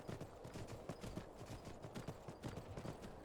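Horse hooves clip-clop in a steady, rapid rhythm as a rider travels on horseback in Skyrim. The sound is faint and continuous, with no talking over it.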